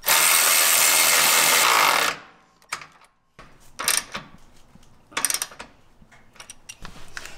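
A power tool spins an 18 mm socket on a Jeep JL Wrangler shock bolt in one loud, steady whir for about two seconds. Scattered metallic clinks and rattles of handling follow.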